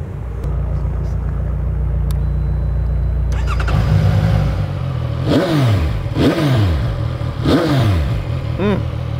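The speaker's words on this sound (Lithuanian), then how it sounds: "kaip šis motociklas skamba" A CFMOTO 675NK three-cylinder 675 cc motorcycle idles with a steady low rumble, then its engine is revved loudly in three or four sharp rising and falling bursts close by, alone without talk.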